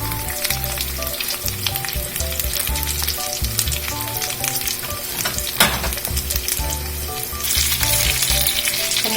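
A beef milanesa cutlet fries in a pan with a loud, steady sizzle and crackle, punctuated by a sharp spatter and brief stirring or turning sounds near the end.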